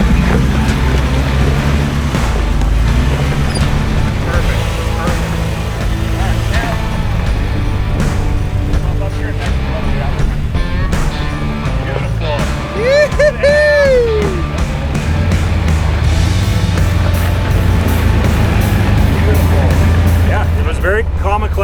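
An off-road vehicle crawls over rocks on the Sand Hollow trail, with a continuous low engine drone, scrapes and creaks, and people talking throughout over the motor.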